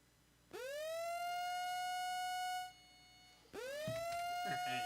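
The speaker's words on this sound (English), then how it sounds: "I did turn down those siren sounds" Two loud electronic severe-weather siren wails, each a rising tone that holds steady, the second cutting in after a brief pause, with some clatter beneath.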